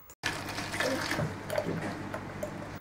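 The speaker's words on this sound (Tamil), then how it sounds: "இதில் அடித்து வச்சுருக்கிற தயிரை ஊற்றிக்கலாம்." Blended curd pours into a bottle with a soft continuous liquid gurgle and splash, close and quiet, starting abruptly after a brief silence.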